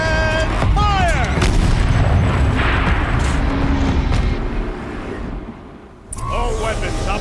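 A turret in Horizon Zero Dawn fires a sustained, loud barrage of booming blasts that rolls on for several seconds, briefly drops off, then resumes, with speech mixed into the din.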